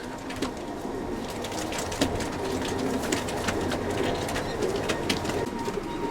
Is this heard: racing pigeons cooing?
yes